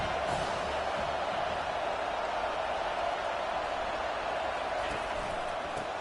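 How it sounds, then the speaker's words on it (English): Crowd noise in the NCAA 25 college football video game roars steadily for several seconds, a dense constant wash of cheering with no break. "this crowd is turning it up a notch."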